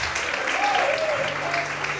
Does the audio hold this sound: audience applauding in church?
yes